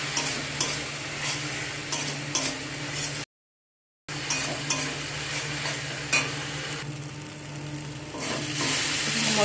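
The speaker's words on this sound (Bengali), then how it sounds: "টমেটোটা দিয়ে ভালো করে নাড়াচাড়া করে নিতে হবে" Tomato and spices frying in a pan, stirred with repeated scraping strokes over a steady hiss of sizzling, close and fairly loud, broken by a brief gap of silence midway.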